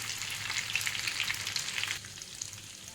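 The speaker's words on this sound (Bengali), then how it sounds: "একটা পাশ ভাজা হয়ে গেছে, আর একটা পাশ একটু ভালো করে ভেজে নিতে হবে।" Potato cheese balls sizzle steadily in oil in a pan over low flame, a continuous close hiss with small popping crackles that drops quieter near the end.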